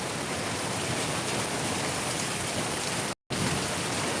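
Heavy rain pours down steadily in Darbhanga, a dense, continuous hiss with only a brief break, close and loud with no voices.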